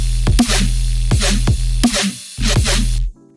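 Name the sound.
synth whomp sound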